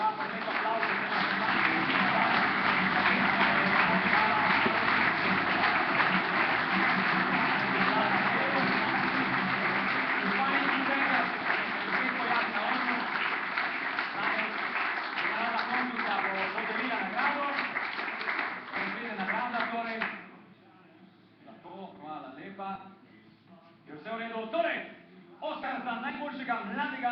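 Audience applause for young athletes at a Slovenian sports awards ceremony, a steady broadband wash of clapping lasting about twenty seconds before thinning into scattered claps and a brief resurgence.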